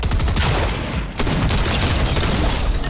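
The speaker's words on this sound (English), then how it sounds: "there was someone here shooting" Fortnite gunfire crackles in a steady flurry of distant-to-mid-range shots, dense and continuous with a brief dip near the middle, with no talking over it.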